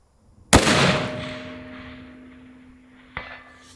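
A single sharp, loud 300 Win Mag rifle shot outdoors at a long-range shooting spot, a crisp crack followed by a long rolling decay, then a fainter distant impact or echo about two and a half seconds later.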